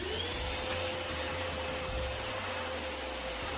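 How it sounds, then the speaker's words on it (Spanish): Ryobi 18V ONE+ cordless wet/dry vacuum cleaner running for home cleaning, a loud, steady, close-up whine with a constant motor tone and no voices. "Ya armado con nuestra aspiradora y la batería, podemos empezar a limpiar nuestro hogar con mucha tranquilidad."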